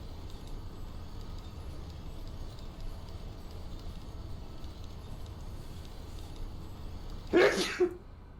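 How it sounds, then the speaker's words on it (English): Sneezes burst out near the end, a quick loud cluster of two or three set against steady low background rumble, with no talk. "The multiple sneezes."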